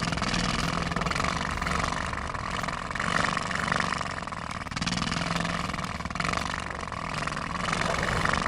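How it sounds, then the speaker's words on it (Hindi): A motorcycle with no rider, a ghostly bike in a horror tale, approaches with a steady, continuous engine drone, fairly loud and even throughout, with no speech. "मम्मा, वहाँ से ना एक बाइक आ रही है और उस पे कोई भी नहीं है"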